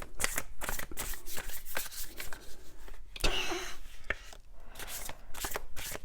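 Tarot cards shuffled overhand, a rapid run of papery riffling and slapping close by, with short pauses between bursts and no talking.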